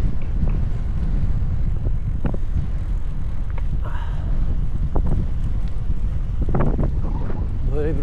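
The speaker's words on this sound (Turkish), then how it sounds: "Böyle bir rüzgar olabilir mi ya?" Strong cold wind buffets the microphone aboard a boat at sea off Marmaris in late November, a steady loud roar and rumble with occasional thumps and creaks running through the whole stretch.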